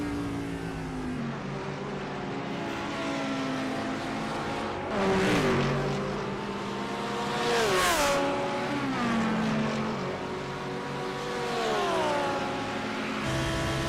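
Lamborghini and Porsche race cars at Sebring International Raceway roar loudly and continuously. Their engine notes climb and fall through gear changes, and louder passes surge around the middle of the run.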